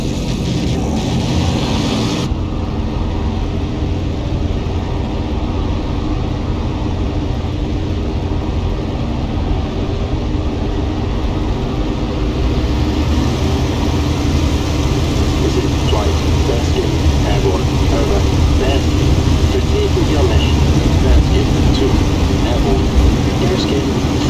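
A Spitfire Mk IXe in IL-2 Sturmovik on its takeoff run, a loud steady engine roar filling the whole stretch, with a voice speaking radio calls over it.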